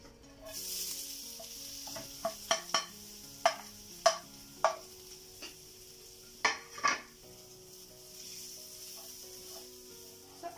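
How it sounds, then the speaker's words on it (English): A metal utensil scrapes and clinks against a pan while stirring coconut and nuts as they roast, giving a series of sharp, irregular clatters over a faint, steady sizzle, with no talk. "Ensure that the coconuts should be cooked and not burnt. So keep on continuously stirring."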